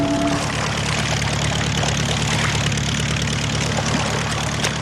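A propeller aircraft engine in Australian Antarctic operations drones loudly and steadily at close range, a dense continuous roar with no talk over it.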